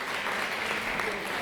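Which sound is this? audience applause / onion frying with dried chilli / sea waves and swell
audience applause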